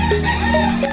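A rooster crows close by, a loud, drawn-out call that fills the whole moment.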